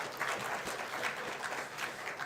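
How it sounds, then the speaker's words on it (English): Steady applause from a seated audience at an IIT Madras startup program event, a dense even patter of many hands heard at moderate distance. "Big round of applause to him, please."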